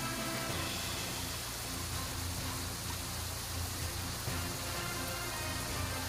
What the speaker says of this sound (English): Because the rain is a battle event